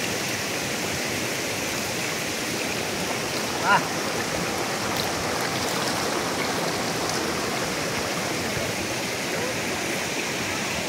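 A mountain stream near Darjeeling runs over stones in a steady broadband rush of water that holds even for the whole stretch, with one faint brief knock near the start.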